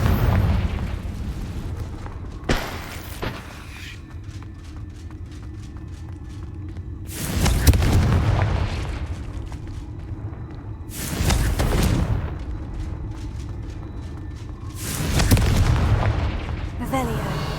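Spell blasts from the Confringo fire spell in Hogwarts Legacy go off about four times, each a loud booming burst with a rumbling tail over steady in-game background noise.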